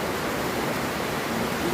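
Floodwater pours into a shop on Bantayan Island as a short, steady, dense rush of flowing water, close and continuous, with no break.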